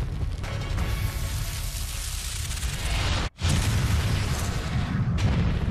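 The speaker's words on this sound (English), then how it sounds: "There's a lot of fireworks." A continuous roar of booming fireworks, loud and dense, with one brief drop-out partway through before the rumbling resumes.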